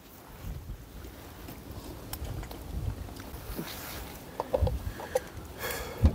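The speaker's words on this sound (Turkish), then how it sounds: "iyice de rüzgar çıktı" Strong wind blowing outdoors on damp grass, a steady broad rush buffeting the microphone with gusty low rumbles and a few thumps, no voices.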